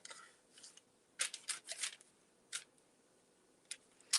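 A knife slicing through raw nori-wrapped spring rolls on a board, a few short, crisp crunching cuts in scattered bursts, close up and quiet, with no talking.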